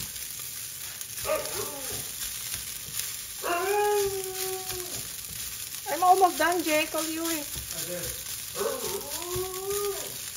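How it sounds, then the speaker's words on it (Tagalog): A husky howls and whines in several long, wavering calls, close by, over a steady sizzling hiss, with a person speaking briefly between calls. "naririnig niyo yung husky"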